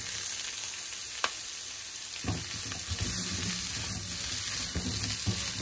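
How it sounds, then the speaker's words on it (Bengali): Potatoes and pointed gourd fry in a pan with a steady crackling sizzle, punctuated by a few scraping stirs and clinks of a utensil, close and fairly loud with no talk. "তো ওই আলু আর পটলও এর সাথেই দিয়ে ভেজে নেব।"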